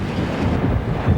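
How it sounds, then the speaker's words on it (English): Hurricane Andrew's hurricane-force wind roars steadily over a flattened trailer park, a continuous loud buffeting rush with gusts battering the microphone, no voices. "Hurricane force wind started about 2 hours ago, and we've really been catching the devil here."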